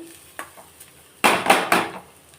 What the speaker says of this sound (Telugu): ఐదు నిమిషాలు పచ్చివాసన దాకా పోయేదాకా వేద్దాం